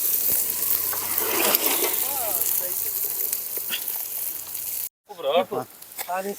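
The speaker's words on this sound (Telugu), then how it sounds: "ఇప్పుడైతే ఆనియన్స్ వేసేద్దాం" Onions going into a hot frying pot for biryani cooked outdoors, loud close sizzling with stirring scrapes, voices talking over it and a brief cut before the sizzle resumes.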